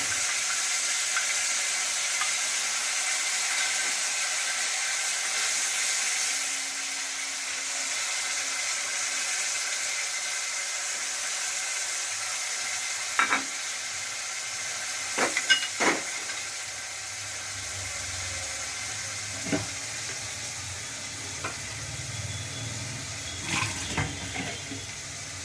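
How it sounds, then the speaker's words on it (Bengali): Tamarind pulp goes into hot oil with fried garlic for a coriander-leaf pickle, a steady watery hiss and sizzle that holds throughout, broken later by a few sharp clinks and scrapes of a utensil in the pan. "এবার আমি তেঁতুলের যে কাজটা করে রেখেছি এটা আমি ঢেলে দেবো"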